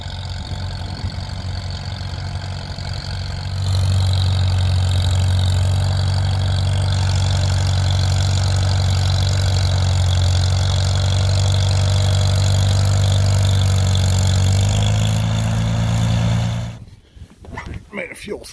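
A 1950s Farmall H tractor pulls a Grover harrow on a farm, its engine a loud, steady low chug that holds for most of the stretch before dropping off near the end.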